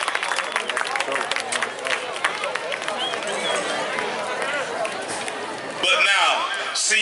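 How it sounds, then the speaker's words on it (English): A crowd in the stands at a high school football halftime show cheers and claps for the Westover High School Marching Band, a dense, steady roar of applause and noise with an announcer talking over it. "Let's give Westover High School Marching Band a round of applause."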